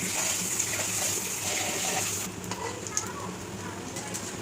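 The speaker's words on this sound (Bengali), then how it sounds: "এটাকে এইভাবে ভাজতে হবে" Vadas (three fritters) frying in a pan, a steady broadband sizzle throughout that changes tone partway through, with a few light clinks and stirring sounds.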